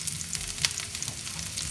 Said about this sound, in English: To this I'm going to add my mushrooms and saute them a little bit